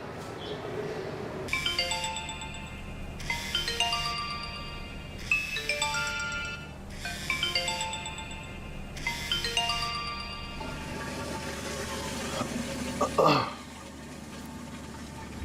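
A mobile phone ringtone plays its melodic electronic phrase five times in repeating bursts, close and clear, followed by a rustle as the ringing stops.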